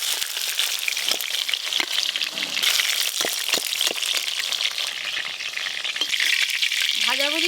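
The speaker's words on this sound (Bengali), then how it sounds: "আর পটল পটলগুলো বেশ ভালো করে ভাজা ভাজা হয়ে গেছে" Pieces of pointed gourd fry in hot oil, giving a loud, dense, continuous sizzle with occasional clicks of stirring, close up and without talk.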